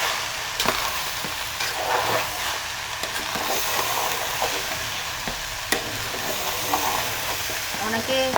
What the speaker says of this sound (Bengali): আমি দিয়ে দিচ্ছি কিশমিশ, একটু ভালো করে ভেজে নিই